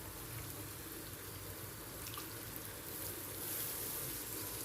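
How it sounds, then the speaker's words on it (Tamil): Water running steadily into a blender jar to rinse out leftover tomato paste for a Chettinadu tomato curry, a quiet continuous splashing trickle in a home kitchen with no talk. "அதால் அதையும் கொஞ்சம் கொஞ்சமாக தண்ணி விட்டு வாஷ் பண்ணிவிட்டு இதில் நம்ம சேர்த்துடணும்"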